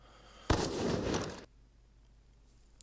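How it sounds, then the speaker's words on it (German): A deep DSR sniper rifle shot effect, one sharp heavy blast with a rolling crackle tail of about a second, then quiet, loud and close, with no talk. "dieses tiefe Geräusch von der DSR zum Beispiel machen kann für Edits"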